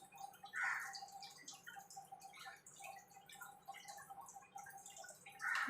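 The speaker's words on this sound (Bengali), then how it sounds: "এবার এর মধ্যে আমি ঠান্ডা জল দিয়ে দেবো।" Cold water poured into gondhoraj lemon buttermilk, a close trickling splash with scattered drips running for several seconds, louder bursts at the start and end.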